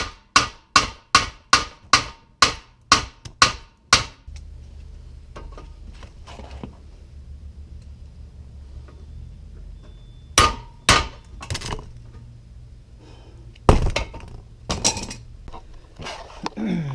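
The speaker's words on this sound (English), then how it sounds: "What I'm doing is with this beefy wedge, I'm just hammering" A hammer drives a heavy wedge to force out the rear subframe bushings on a Nissan S13. Eight quick, evenly spaced metallic strikes ring out up close, then a low hum fills a pause before several more scattered, loud blows follow.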